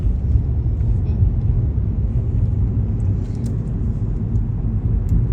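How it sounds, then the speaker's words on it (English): A truck rumbles along a residential street in Garland, Texas, with a low, steady engine drone that holds for several seconds and some faint talk nearby. "That truck down there."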